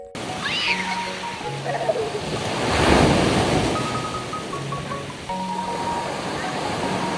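Sea waves wash steadily onto the beach at Agsalin Fish Sanctuary, a continuous broad surf roar that swells to a louder break near the middle, with wind buffeting the microphone and faint voices in the background.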